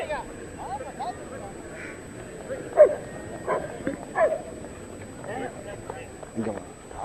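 Police sniffer dogs bark during a Republic Day display at the VOC ground in Coimbatore, a few sharp barks rising over steady crowd noise and talk.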